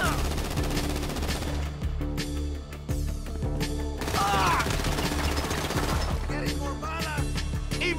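Gunfire in Grand Theft Auto V crackles in rapid bursts of automatic and single shots throughout, close and loud over a dense mix of game sound and some voices.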